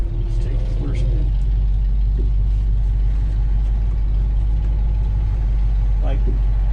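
A 1978 Ford Bronco with a stock, unbuilt engine rumbles loud and steady from inside the cab while driving, with a low constant drone and occasional faint rattles.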